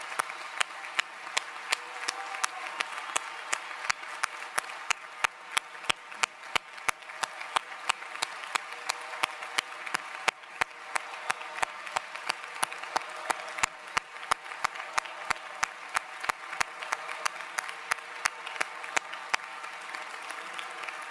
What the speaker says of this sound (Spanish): os quiero pedir un primer aplauso cerrado para nuestra compañera secretaria general, Jone Belarra